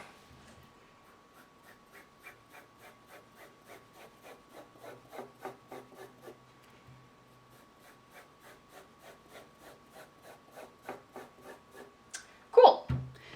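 A marker or pencil draws a freehand curved cut line across fabric, a faint rhythmic scratching made of repeated soft strokes in a quiet room, ending with a brief louder rustle.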